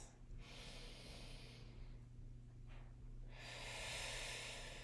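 Slow, controlled breaths during a Pilates class: a few long airy exhales and quieter inhales, faint and close, with no talking.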